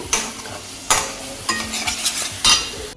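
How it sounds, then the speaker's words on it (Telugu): Masala paste with salt and chili fries in a pan while being stirred, a soft steady sizzle broken by four or five scraping strokes of a utensil, close and without talk. "ఉప్పు కారం వేసాం కదండి ఇదంతా కూడా ఈ పేస్ట్కి పట్టేలాగా బాగా కలుపుకుని ఇది కూడా ఒక టూ మినిట్స్ వరకు వేగించుకుందాము"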